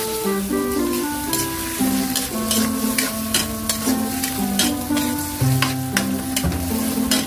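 Chicken liver sautés in a hot pan with whole peppercorns. The sizzle is loud and crackling and carries on throughout, under repeated scraping and stirring from a utensil.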